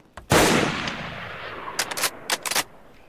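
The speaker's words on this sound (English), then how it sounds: "So Phil's making a fireworks show." Fireworks go off during a fireworks show in a video game. One loud, booming blast decays into a long rumble, followed by a quick series of sharp, crackling pops, with no voices.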